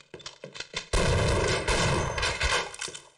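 Rapid gunfire from Half-Life bursts loudly, a few scattered shots giving way to a dense, sustained volley of close, overlapping reports.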